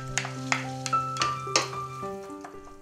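Onions sautéing briefly in a pan before cream is added give a light sizzle beneath sharp utensil clicks and taps, with sustained background music tones.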